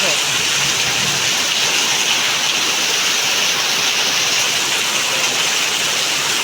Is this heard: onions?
no